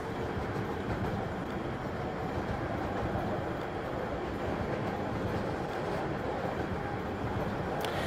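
A high-capacity 30T tram running along rails in a tram simulation game, a steady loud rumble of wheels and motor filling the whole stretch with no talk over it.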